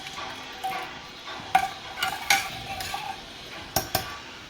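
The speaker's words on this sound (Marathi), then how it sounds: "परत एकदा हे चांगलं असं हलवून घ्यायचं आहे" A spoon scrapes and clinks against a metal pot of green peas curry in a few irregular strokes, close by, with soft stirring sounds between the sharper knocks.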